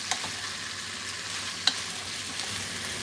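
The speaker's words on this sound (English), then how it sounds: "And then cooking ham." Sliced ham stirred in a hot pan with a steady, even sizzle throughout, a couple of sharp clicks of the utensil against the pan standing out.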